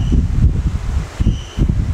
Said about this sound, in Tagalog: So ito yung tunog pagka nandyan yung electric fan sa gilid.